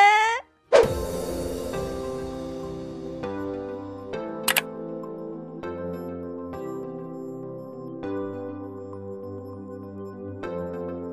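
A single camera shutter click for a group photo on a winter trip in eastern Hokkaido, a crisp click followed by a brief double click, over a steady droning background with no talk.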